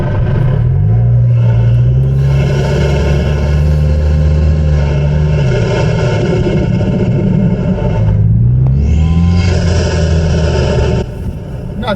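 Car engine breathing through a Banks intake, recorded from under the hood while driving slowly through a subdivision, a loud, close drone with rising and falling revs as it accelerates, eases off and pulls away again.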